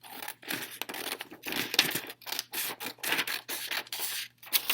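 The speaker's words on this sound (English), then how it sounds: "I'm just going to cut it to make it easier." Scissors snip through a paper picture in a quick run of close, crisp cuts with slight crinkling between strokes, heard alone without talk.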